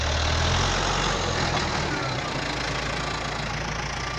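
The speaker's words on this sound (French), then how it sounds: "Là il y a Clément dans le tracteur" A tractor engine runs nearby while hay bales are brought in, a loud continuous diesel rumble with a low throb, steady throughout and with no voices.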